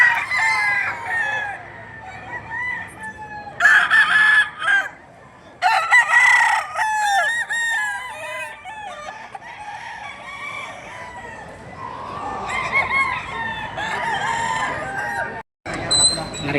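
Roosters and bullstags crow repeatedly and loudly at a chicken market in Padre Garcia, Batangas, with overlapping calls and clucking while people talk in the background.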